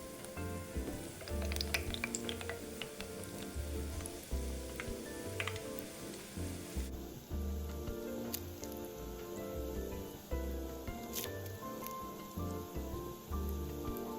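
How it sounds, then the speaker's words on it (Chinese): Dough sticks of salted egg yolk shortbread deep-fry in oil over medium-low heat while being turned constantly, producing a dense, steady bubbling crackle like light rain, with occasional sharper pops. "炉一直保持中低火，不停翻拌油炸"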